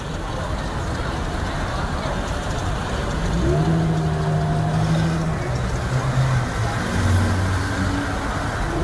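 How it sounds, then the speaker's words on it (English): Cars cruising a busy Saturday night street in Tallinn, a continuous near rumble of engines and tyres rising as one vehicle revs past, with crowd voices and street chatter underneath. "There is a constant parade of cars here"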